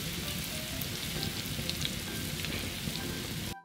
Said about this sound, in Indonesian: Kita tumis sampai naik bau.